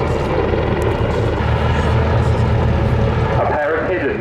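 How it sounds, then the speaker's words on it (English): A pair of Army Air Corps Apache AH-64E attack helicopters run in at an air show display, a steady loud rotor and engine roar with low throbbing blade beat throughout, with talk over the top. "A pair of hidden Army Air Corps Apache AH-64E attack helicopters run in."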